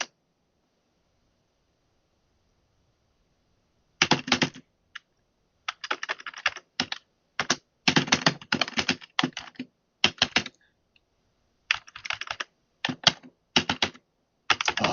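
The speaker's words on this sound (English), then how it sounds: "I'm not typing very well here." Computer keyboard typing in bursts of quick, close clicks, with brief pauses between runs of keystrokes and no other sound.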